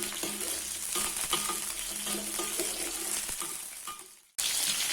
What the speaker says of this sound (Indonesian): Nah ini kita goreng sampai semuanya ini benar-benar layu